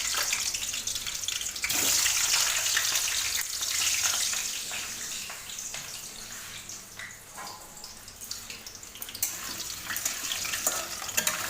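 Potatoes fry in a pan for a home-cooked dish made without tomato, giving a steady crackling sizzle with occasional stirring scrapes throughout.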